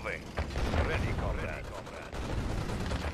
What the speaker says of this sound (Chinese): 这个三星打小兵一枪一个